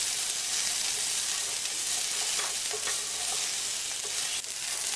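Ivy gourd (dondakaya, gherkins) cooks in a pan with coconut, giving a broad, steady sizzle overlaid with a few soft stirring scrapes near the middle, with no voices.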